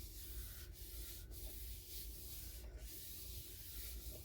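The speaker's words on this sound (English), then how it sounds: "So I'm going to use my hands to rub this glue out, make sure it's really nicely adhered." Bare hands rub firmly over a glued paper album cover, a close, steady dry swishing and scuffing with a few brief stronger strokes, no talking.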